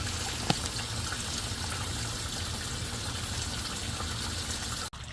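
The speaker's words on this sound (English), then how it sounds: "So you can see the water coming out of the pop-up there." Water gushing steadily from a sump pump pop-up drain outlet out by the curb, a continuous broadband rush heard close up and fairly loud, with a single brief knock early on and an abrupt cut near the end.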